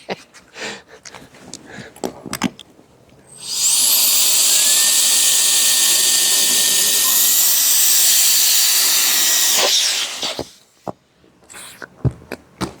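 A handheld compressed-air mini blower in turbo mode roars as a loud, steady rushing hiss for about six seconds while inflating something. Scattered clicks and handling noises come before and after.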